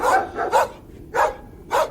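Several dogs bark in short bursts, four separate barks spaced unevenly across a brief stretch, fairly close and loud with no talk.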